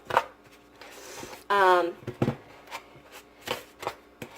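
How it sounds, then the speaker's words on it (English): A fork mashes soft, unmelted butter into brown sugar for an apple dumpling crumble, giving scattered, close-up scraping and pressing strokes in short bursts with quiet pauses in between. "We're going to basically start mashing the brown sugar and the butter together so it kind of becomes more of like a crumble."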